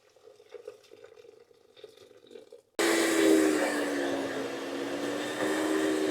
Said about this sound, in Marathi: आता ह्याच्यामध्ये अडीच कप उकळतं पाणी घालते